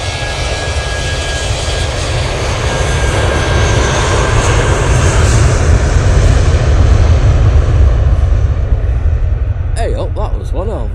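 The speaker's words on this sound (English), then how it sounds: "That was one hell of a spool up" Jet airliner engines spool up for takeoff at Manchester Airport, a loud, sustained roar that builds steadily and fills the whole clip, with a brief voice breaking in near the end.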